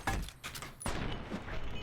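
A single gunshot rings out in Fallout: New Vegas, a sharp broadband crack midway followed by a lingering rumble, set against quiet background game ambience.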